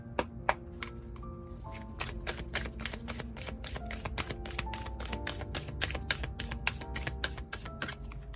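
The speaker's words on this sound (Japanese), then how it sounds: "ここのハイプリエステスにもう一枚オラクルカード引いてみます。" Oracle cards being shuffled and drawn during a tarot-style reading, a quick, dense run of crisp slapping and riffling clicks close by, steady and fairly soft with no talking.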